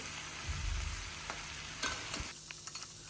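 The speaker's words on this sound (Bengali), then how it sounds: "নাড়াচাড়ার মধ্যেই আছি নাড়াচাড়া করছি" Olive pickle for a sweet, sour and spicy achar being stirred in a pan, with a few soft scraping strokes over a faint, low background hiss; quiet and close.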